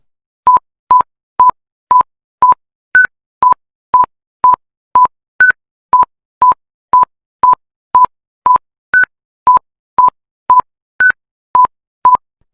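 An auditory oddball sequence of short, evenly spaced pure beeps, mostly 1000 Hz standard tones with occasional higher 1500 Hz deviant tones, about two per second, clean and loud with no other sound.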